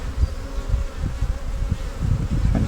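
A loud, close drone of honeybees at an open hive during inspection, a constant buzz with occasional low thumps and handling noises underneath, and no voices.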